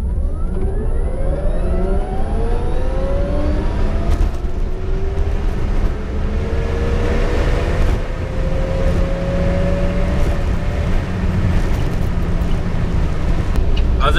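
A VW e-Golf electric car accelerates hard in a drag race, its motor whine rising steadily in pitch over a loud rush of road and wind noise, with voices talking over it.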